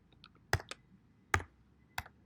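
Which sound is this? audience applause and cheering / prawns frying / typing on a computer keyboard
typing on a computer keyboard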